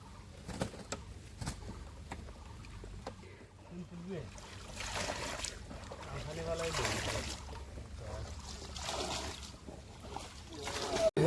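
A fishing boat starts out on the Barak River in light rain, a low rumble on the water under scattered talk and nearby pigeon coos.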